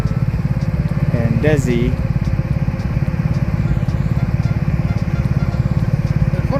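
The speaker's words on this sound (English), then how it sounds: "driving through the tunnel log" A car rolls slowly through the Tunnel Log, a fallen giant sequoia in Sequoia National Park, its engine a steady close low rumble throughout while people chat over it.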